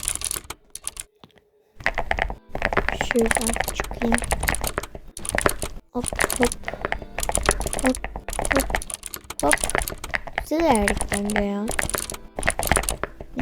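Rapid, loud keyboard key clicks clatter almost continuously, with a person speaking over them and game sounds mixed in.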